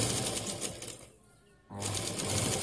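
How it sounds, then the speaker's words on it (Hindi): A sewing machine runs steadily while stitching around the top edge of a cloth shopping bag, with a close, even whirr that briefly stops partway through before starting up again. "इसके ऊपर हमें स्टिच कर देनी है यहाँ पे पूरे राउंड में"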